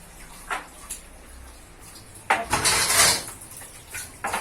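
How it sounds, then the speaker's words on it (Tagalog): Dishes, pots and plates being washed by hand, with scattered clinks and scrapes of crockery and cutlery, quiet at first, then a louder burst of rattling and splashing in the middle and a few more clatters near the end. "Pag-hugas ang kandera, ito pinagkainan."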